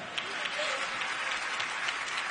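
An audience at Carnegie Hall, at a Kennedy Center Honors show, bursts into full, dense applause that stays loud and steady for a couple of seconds.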